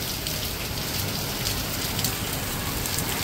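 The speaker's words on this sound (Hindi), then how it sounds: "बारिश आ गई है जबरदस्त" Heavy rain pours steadily during a sudden storm, a dense, loud hiss of drops drumming on surfaces with no pause throughout.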